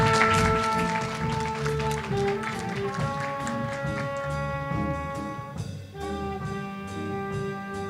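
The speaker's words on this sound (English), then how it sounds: "So can we give another round of applause to Amy Devoe?" Audience applause at a college student awards ceremony, with clapping running throughout beneath a sustained musical backing of steady tones, loud at the start and easing slightly later.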